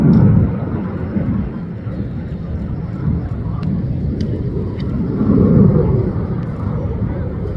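RAF Red Arrows jets perform at an air show, a loud broad roar that swells and eases as the aircraft pass, with a brief low surge toward the end.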